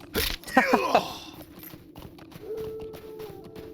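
Galloping hooves of a horse in Lord of the Rings Online, a quick burst of clip-clop beats near the start, then fading under game ambience and a low steady tone.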